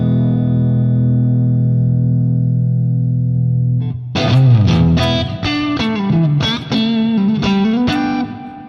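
An electric guitar played through a Fractal modeler set to a Marshall-style cabinet with heavy reverb rings out. A sustained chord fades first, then a run of sharp, distorted picked notes follows with a long echoing tail.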